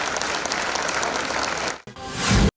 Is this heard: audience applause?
yes